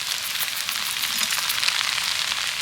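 Sago is being stirred with sugar in a frying pan, giving a continuous bright sizzle and scraping hiss at steady, close volume with no talking.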